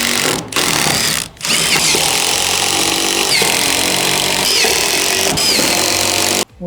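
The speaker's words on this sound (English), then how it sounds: "And then the screw can just go into the threaded part without pushing or pulling the window." A power drill drives threaded screws into a window frame during a door and window install, its motor whining loud and close almost the whole time, with two short pauses early on and a final stop near the end.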